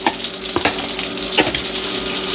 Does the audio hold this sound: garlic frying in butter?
yes